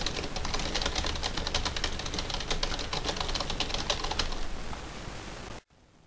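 Rapid keystrokes on a computer keyboard in a school computer lab clatter in a dense, continuous stream, then stop abruptly near the end.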